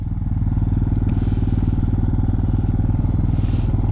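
A Honda Hawk 250 motorcycle engine idles steadily and loudly nearby, its fast, even low-pitched pulsing holding constant throughout with a slightly high idle speed and no talk over it.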